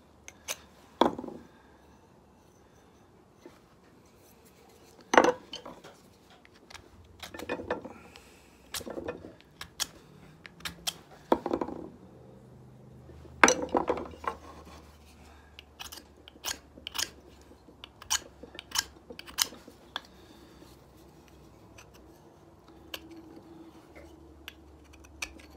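Steel knife blade scraping and clicking against bone while boning meat, a series of short, sharp crunchy scrapes in irregular bursts, close and fairly quiet with pauses between strokes.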